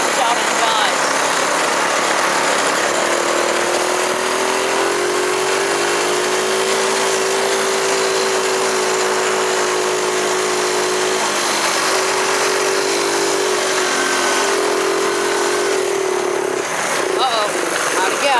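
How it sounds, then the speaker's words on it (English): An engine is held at full throttle, then bogs out and dies at a three-quarter throttle dead spot. It gives a loud, continuous droning roar with a wavering pitch that sags partway through, heard close up under speech. "This is flooring it. Dead spot at about 3/4 throttle where it bogs out and dies."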